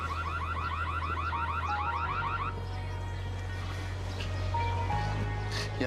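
A loud electronic fire alarm, a false alarm with no fire, warbles rapidly, then shifts into steady, continuous tones that keep sounding without pause.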